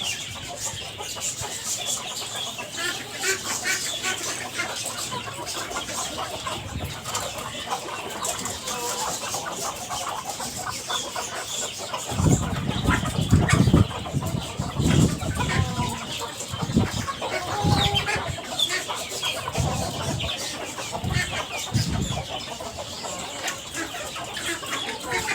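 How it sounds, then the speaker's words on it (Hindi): Chicks cluck softly and continuously nearby while eating spinach, with pecking and rustling sounds growing busier in the second half. "चूज़ों को पालक डाल दी और चूज़े बहुत ज़्यादा शौक़ से खा रहे हैं"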